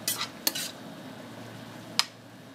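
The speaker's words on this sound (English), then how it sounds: "as we're deglazing, we're just going to stir the bottom and get those wonderful brown bits up" A utensil stirs and scrapes the bottom of a pan while tasso, onions and garlic are deglazed, giving a couple of sharp metallic clinks over a quiet low sizzle, with no talking.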